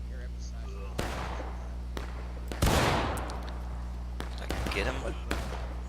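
Black-powder rifle shots in the Civil War game War of Rights, several separate cracks spaced a second or so apart, one louder and nearer with a rolling tail, while someone talks between them.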